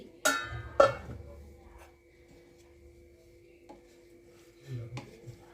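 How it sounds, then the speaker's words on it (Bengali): Metal lid lifted off a kadai of cauliflower, spring onion and prawn curry, giving two sharp clanks close together, then a quiet stretch and a softer rattle near the end. "কড়াইয়ে ঢাকনা খুলছি"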